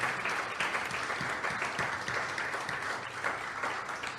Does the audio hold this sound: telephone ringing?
no